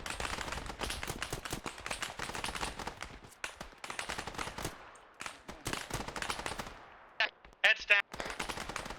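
Enemy gunfire in the Modern Warfare video game comes as rapid bursts of automatic fire, loud and dense, with brief pauses between volleys, while players shout over it.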